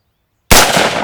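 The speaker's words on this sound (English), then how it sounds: "we're gonna shoot this target and see where we hit" A single sharp, loud gunshot fired at a target through an inexpensive red dot scope, bursting out of silence and ringing briefly as it decays, with no talking.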